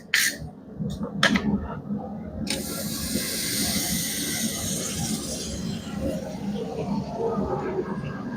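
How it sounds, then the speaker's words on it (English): A hot forged steel chain hook hisses and sizzles steadily as it is quenched in water, a loud continuous hiss that follows a few sharp clanks. "Love the sizzling in the water."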